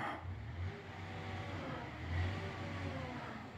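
A gas-guzzling car passes on a road with a steady mid-pitched engine drone that swells slightly and fades, moderately distant amid background noise, with no talking.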